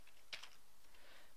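A few quick keystrokes on a computer keyboard, a short cluster of light clicks near the start followed by faint scattered taps, close and quiet with no talking.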